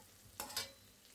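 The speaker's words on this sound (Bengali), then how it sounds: "আমার পেঁয়াজটা ভাজা ভাজা হয়ে গেছে।" Onions frying in a pan, heard as a quiet sizzle with two brief bursts of stirring scrape in the middle, faint and close, with no voices.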